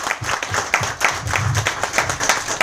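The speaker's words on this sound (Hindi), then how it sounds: "एक बार जोरदार ताली हो जाए" An audience at a training seminar gives loud, enthusiastic applause, a dense roar of many hands clapping close and continuous throughout.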